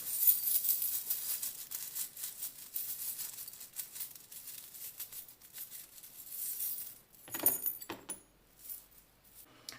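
Small divination charms are shaken and tossed for a reading, giving faint metallic jingling and rustling throughout and a louder clattering burst near the end. No one speaks.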